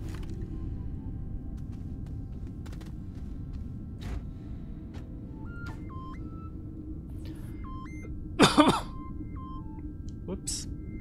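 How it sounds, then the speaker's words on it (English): A single brief cough from a player during a live Astroneer tundra traverse session, a short burst standing out over steady game ambience and electronic tones. "Little cough there."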